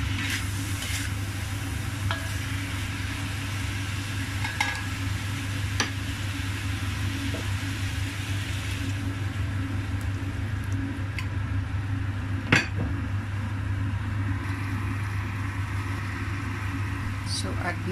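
Pork stir-fries in sesame oil with fermented soya beans and bitter melon, a continuous close sizzle with occasional scraping and stirring clicks, under a steady low hum.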